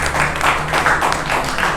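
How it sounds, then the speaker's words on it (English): A gallery lecture audience breaks into a short burst of applause, with dense, even clapping at close to moderate range and no voices over it. "A big round of applause for Frank."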